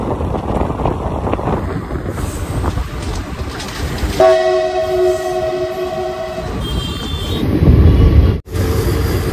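The 13020 Bagh Express pulls into Gorakhpur Junction. Loud rolling rumble and wind buffeting give way to a sustained train horn blast mid-clip, then heavier clatter and a sharp dropout near the end.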